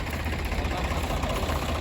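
A steady, low engine idle rumbles continuously with a slight knocking vibration, loud and close throughout.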